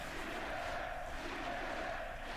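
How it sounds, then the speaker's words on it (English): A large esports arena crowd at a League of Legends match chants for TSM, a dense, continuous roar of many voices heard at a distance. "the crowd, they're alive with the sound of Team Solo Mid, or just TSM now"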